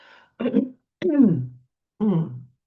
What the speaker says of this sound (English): Excuse me for all my coughing.